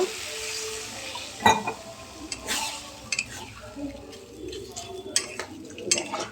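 Amudi fish going into a pan of tomato masala, with water added after: soft sizzling under scraping and clinking of a spoon against the pan, plus a few sharp knocks, close by.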